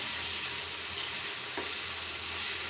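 Chicken pieces fry in a pan, giving a loud, even, continuous sizzle with no voices.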